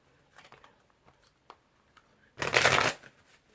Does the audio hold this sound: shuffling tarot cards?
yes